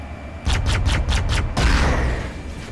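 Rapid bursts of gunfire rattle in the Halo Anniversary video game as a Banshee bombs Grunts and Shade turrets, five quick pulses followed by a heavier roaring blast, loud and close.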